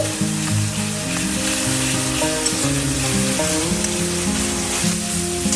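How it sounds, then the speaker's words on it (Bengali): Spice paste with red chili powder and turmeric sizzles steadily in oil over a medium flame, being cooked down for a village-style Bengali bata fish curry, with tonal background music running underneath the whole time. "মিডিয়াম ফ্লেমেই মশলাটা কষছি।"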